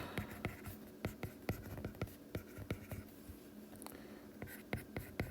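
Pen or pencil writing math notes on paper, close and quiet, with quick irregular strokes and taps in bursts and no speech.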